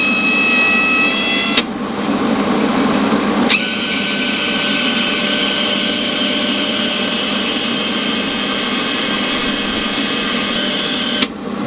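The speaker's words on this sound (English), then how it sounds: "Let's hit the trigger." Hobart Handler 140 flux-core welder with its trigger held, feeding wire through the gun: a steady whirring motor drone with a constant hum, broken by a few sharp clicks near the start and end.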